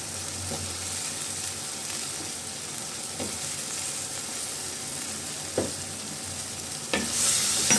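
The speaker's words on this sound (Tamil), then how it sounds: "இப்போ கத்திரிக்காயும் போட்டு அதை நல்லா வதக்கியாச்சு." Small whole slit brinjals sautéing with tomatoes in a pan give a steady, even hiss of frying, with occasional soft clicks of stirring and no voices.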